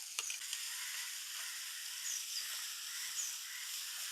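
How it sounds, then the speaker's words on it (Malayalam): A paste of ginger, garlic and green chili with curry leaves fries in a pan, giving a soft, steady high sizzle and hiss, faint and close, with a few small spattering pops. "കുറച്ച് കറിവേപ്പില ഇഞ്ചി വെളുത്തുള്ളി പച്ചമുളക് പേസ്റ്റ് അത് പാകത്തിന്"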